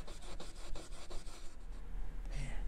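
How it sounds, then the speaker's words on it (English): Steel wool rubbing across a sheet of red-patinated copper, a steady scratchy rasp of repeated back-and-forth strokes close up, with no talk. "I wanted to see what would happen with steel wool and then also the pro polishing pads to just bring up some of the copper."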